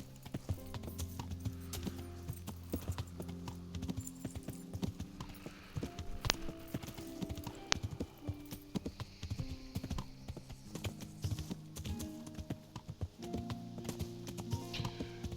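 Horse hooves clip-clopping in the medieval video game Kingdom Come: Deliverance, a steady rhythmic trot of hoofbeats close by over low game background sounds, with an occasional faint snort.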